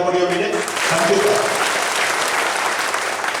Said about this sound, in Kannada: ಗಟ್ಟಿಯಾದ ಒಂದು ಚಪ್ಪಾಳೆ ಹೊಡೆಯವರಿಗೆ